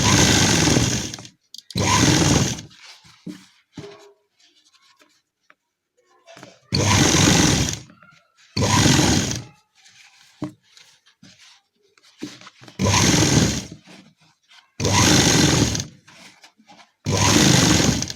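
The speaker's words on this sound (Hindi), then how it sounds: "सिलाई हमें बिल्कुल किनारे पर चलानी है, इस पे इलास्टिक पर बिल्कुल नहीं चलनी चाहिए।" Sewing machine stitching elastic onto the edge of a sharara garment, running in distinct loud bursts of a second or two separated by quiet pauses, close to the listener.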